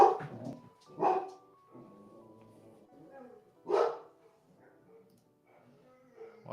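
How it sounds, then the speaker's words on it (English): Several dogs bark in short, separate bursts a few seconds apart, fairly close, with quieter whimpering and a faint voice in the gaps. "Boys, why are you barking?"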